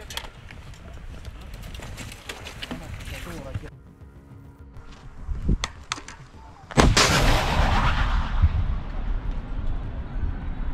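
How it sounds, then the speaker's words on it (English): An artillery gun fires in a military setting, a single sudden heavy boom partway through followed by a long rolling rumble, with voices and movement audible beforehand. "Выстрел!"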